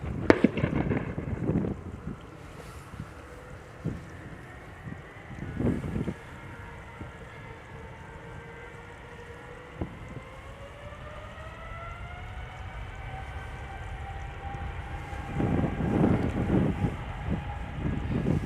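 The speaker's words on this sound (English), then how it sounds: "And United flight 908 in the background going to Chicago" United Boeing 787 jet airliner departing Amsterdam Schiphol, a distant rising engine whine that swells over many seconds beneath gusting wind noise and scattered bumps.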